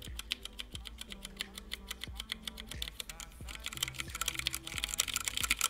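Scratchy switches on a Percent Canoe mechanical keyboard clatter quickly under repeated presses, a dense close run of clicky taps with a faint hum beneath, growing busier toward the end.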